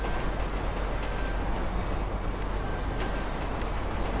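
A train rolls through a tunnel in Grand Theft Auto V, a steady, loud, broadband rumble and rattle that holds constant throughout with no pauses and no voices.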